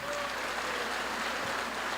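Steady, dense clapping fills a church service as the congregation applauds together, holding an even level throughout with no break.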